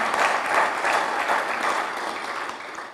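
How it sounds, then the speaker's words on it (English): Audience applause for the Rivers State Administrator at a government event in Rivers State, a dense, steady round of clapping from many hands that gradually thins toward the end. "Please, can we clap for the Administrator?"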